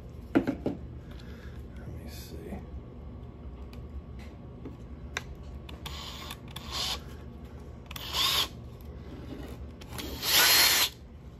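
A power drill boring holes around the gear of a Mantis rotating compact composter whirs in several short bursts that grow louder toward the end, with clicks and handling noises and a person speaking quietly between bursts.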